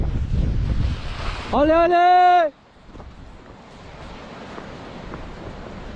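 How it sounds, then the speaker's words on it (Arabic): Strong wind of about 40-50 km/h on a rough, empty seashore during a fishing outing, roaring and buffeting the microphone throughout, with a brief voice cutting through partway. "يا عيني الريح شي 40-50 كيلومتر في الساعه اللي كاين"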